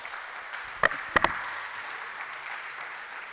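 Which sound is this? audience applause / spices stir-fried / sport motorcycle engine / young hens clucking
audience applause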